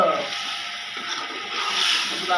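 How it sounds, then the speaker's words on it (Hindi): A glass of water poured into a simmering chicken and peas curry, a steady hissing splash that runs evenly for a couple of seconds without talk. "पानी का पाऊँगी मैं"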